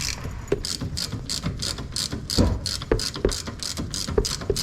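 Ratchet wrench loosening the bottom brake caliper bolt on a Honda Civic EM1 Si, a steady run of quick metallic clicks with a few heavier clunks, close and clear.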